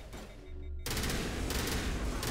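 Rocket launcher missiles fire in the Mass Effect Legendary Edition video game, a dense burst of loud explosive blasts and crackling fire that erupts suddenly after a brief hum and keeps roaring.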